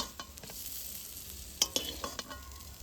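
Whole spices frying in a pan on a village kitchen stove with a steady sizzle, under several sharp scraping stirs and clinks of a spatula against the pan near the end.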